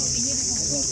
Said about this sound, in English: Yes, we have cricket and we have cicada.